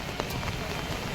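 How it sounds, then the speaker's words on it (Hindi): Continuous morning rain falls at the Haridwar ghats by the Ganga, a dense, steady hiss of drops without a break. "सुबह से हो रही लगातार बारिश"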